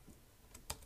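A few keystrokes on a computer keyboard, sparse and quiet, with one sharper clack standing out near the end against a faint room background.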